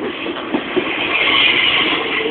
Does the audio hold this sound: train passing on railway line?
yes